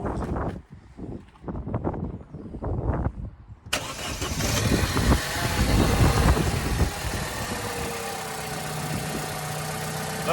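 A Vauxhall Corsa engine cranks and fires up after some nearby clicks and handling, then settles into a steady, fairly loud idle with a faint tapping in the running.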